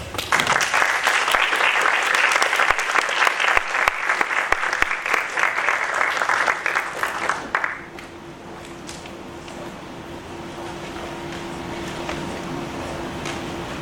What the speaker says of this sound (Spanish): para quien pido un caluroso aplauso.